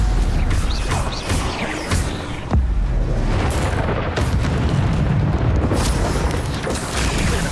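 Spell blasts and magical impacts from a Stupefy-style stunning spell in a Hogwarts Legacy duel, loud and dense with repeated booming hits, crashes and mechanical clatter through a constant wall of game sound effects.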